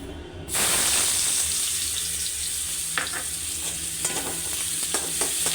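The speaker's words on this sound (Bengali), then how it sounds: "এবার ওই তেলেতেই আমি পেঁয়াজগুলো ছেড়ে দেব।" Steady hiss of onions frying in hot oil left from frying duck eggs, loud and continuous, with a few clinks of a utensil stirring the pan.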